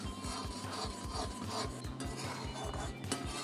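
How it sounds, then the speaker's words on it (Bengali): Steady scraping and rasping of a spoon stirred continuously through thickening, grainy milk in a kadai while making milk cake sandesh, a rhythmic close-up rubbing with regular strokes and no talk. "অনবরত নাড়তে হবে, না হলে কড়ার গায়ে বসে যাবে।"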